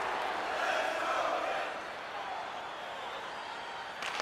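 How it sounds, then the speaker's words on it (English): Arena crowd noise from a tied NHL 25 hockey game between Los Angeles and Pittsburgh fills the clip as a broad, steady roar. It swells briefly near the start and settles into a constant wash. "you can feel the energy in this crowd"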